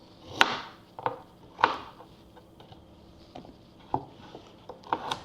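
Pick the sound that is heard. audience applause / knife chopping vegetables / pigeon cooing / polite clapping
knife chopping vegetables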